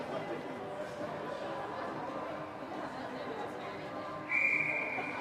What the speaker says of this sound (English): There's a whistle.